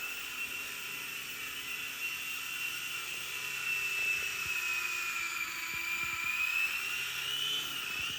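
A small RC helicopter flies nearby with a steady high-pitched whining buzz, its pitch drifting slightly as the rotor speed changes, continuous and fairly faint throughout with no talk over it.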